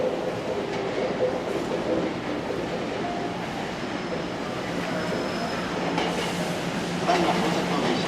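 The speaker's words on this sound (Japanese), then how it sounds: "ただいま到着の電車は各駅停" A Hankyu electric train pulls into a station in the Keihanshin area around 2003, giving a steady, loud rolling rumble and rail noise that fills the whole stretch, with faint voices in the background.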